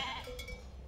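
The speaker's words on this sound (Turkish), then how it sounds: "Şu anda 500 tane koyun keçi olarak hayvanımız var." Sheep and goats bleating on a family farm with a 500-head mixed flock raised for goat milk, one brief nearby call over a steady low barnyard rumble.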